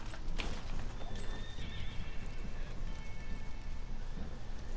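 A horse in Red Dead Redemption 2 gives a loud whinny near the start, followed by steady clip-clop hooves and faint rain-like ambience, with no speech.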